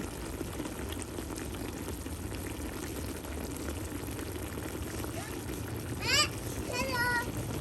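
Pork and mixed vegetables boil in a pot for a home dinner, giving a steady, moderately loud bubbling hiss throughout, with a voice speaking briefly near the end.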